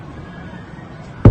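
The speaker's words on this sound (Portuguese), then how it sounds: "Mas o som de várias explosões." An explosion during an attack in Sevastopol lands as a single sudden, heavy boom at the very end, after a stretch of low, murky background rumble.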